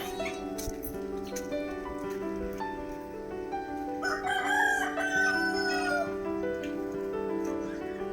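A rooster crows in the middle distance on a mixed farm with ducks, fish, rabbits and goats in Chalakudy, Kerala, its drawn-out call rising over a steady background hum with other faint animal noises.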